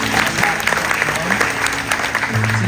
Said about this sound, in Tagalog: isang malakas na palakpak muli